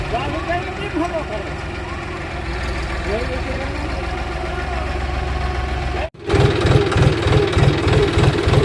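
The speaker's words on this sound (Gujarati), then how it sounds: "હાલો જો ટ્રેક્ટર કાઢી લીધું." A tractor engine idles with a steady low rumble, then revs into a louder chugging rhythm after a brief cutoff; voices talk over it.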